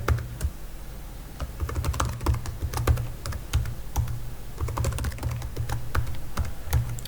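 A password is typed on a computer keyboard as a steady patter of close key clicks with a few louder strokes, running throughout with no voices.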